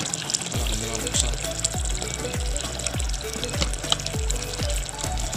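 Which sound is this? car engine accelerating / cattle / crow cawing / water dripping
water dripping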